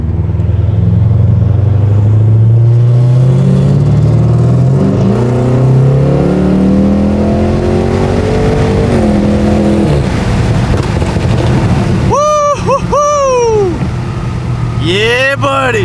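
A 600-horsepower BMW F10 accelerates hard, its loud engine note climbing steadily through the gears before a sharp upshift, then revving again near the end while people talk over it.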